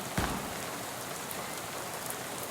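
Rain falls steadily in the video game Shadows over Loathing, a dense, even hiss with a brief tap near the start and no voices.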